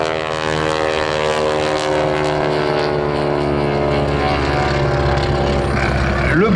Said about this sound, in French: Le Broussard a une caractéristique, c'est qu'il est bruyant. Pourquoi? À cause de ce moteur, justement.